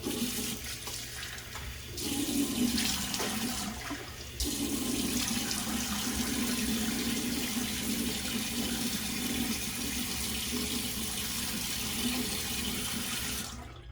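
Bathroom tap water running steadily into a sink while the face is wetted before a wet shave. It makes a continuous, fairly quiet hiss and splash, with brief changes in the flow near the start and no talking.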